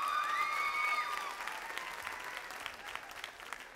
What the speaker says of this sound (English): Give them all three a big round of applause.